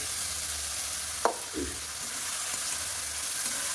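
Pointed gourd pieces fry in a pan, giving a steady, even sizzling hiss throughout, broken by a couple of brief knocks from a utensil.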